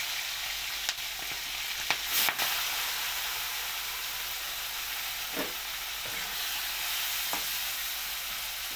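Large prawns frying in a pan, a steady bright hiss of hot oil with occasional sharp crackles and pops, close and continuous with no voices.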